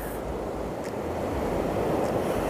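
Ocean surf breaks continuously along the shore, a steady broad roar of waves mixed with wind, with no voices.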